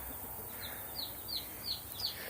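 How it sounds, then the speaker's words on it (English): Young chicks near a chicken coop and brooder house give a run of faint, high peeping calls, about five short chirps spaced irregularly over a steady hiss of background noise. "There's a chicken coop over there."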